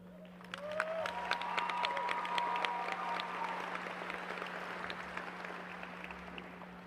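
A graduation audience breaks into applause, a steady wash of many hands clapping that swells quickly and then slowly tapers, with a faint steady hum beneath.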